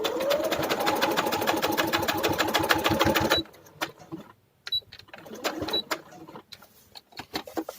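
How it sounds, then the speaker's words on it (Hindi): A sewing machine rapidly stitches the corner of a mandarin collar with buckram, running in a fast, even mechanical chatter for about three seconds, then stopping, followed by a few quieter handling noises and short bursts. "बिल्कुल कॉर्नर पे ले आइए और इसको स्टिच करना है।"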